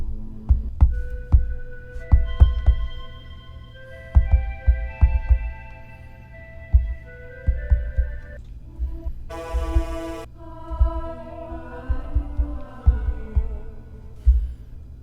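Layered synthesized choir tones from Omnisphere with long sustained harmonies, punctuated by a steady pounding low beat, with a bright breathy swell near the middle.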